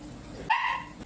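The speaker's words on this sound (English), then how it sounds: "Why is he barking like that?" A single sharp dog bark rings out close by, followed by a brief quieter yelp at the end against faint background noise.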